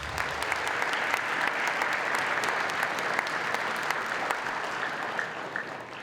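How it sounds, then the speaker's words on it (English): A roomful of guests at a charity breakfast claps for table hosts, a broad, even wash of applause that holds steady and tapers slightly near the end. "Please give your table hosts a round of applause."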